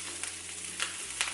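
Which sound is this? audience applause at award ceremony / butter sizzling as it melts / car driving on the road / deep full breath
butter sizzling as it melts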